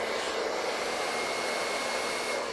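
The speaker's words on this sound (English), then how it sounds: "making sure that that hair dryer is shooting the air flow down" A hair dryer blows steadily on the hair roots at the back of the head, its continuous airy whoosh close and loud with no break throughout.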